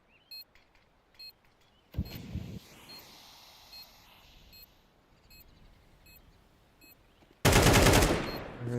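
Counter-Strike match gunfire: a loud close burst of rifle fire near the end after a short blast early on, with small beeps and quieter game ambience between.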